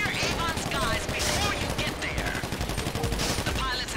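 Rapid automatic gunfire in GTA V rattles on continuously and loudly, dense bursts layered under people talking.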